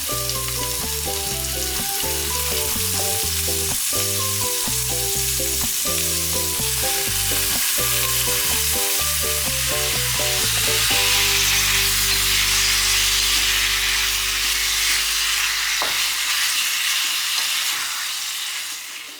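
Beef marinated in soy sauce and lime sizzles loudly and steadily in a hot pan while being stirred, with music playing over most of it before the frying carries on alone.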